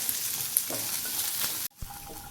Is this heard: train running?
no